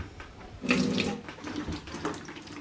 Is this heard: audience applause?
no